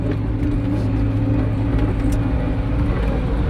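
A Scout TV-904C walk-behind tractor engine driving in third gear at half throttle or less, a loud, steady, close rumbling drone with a constant low-pitched chug and no pauses.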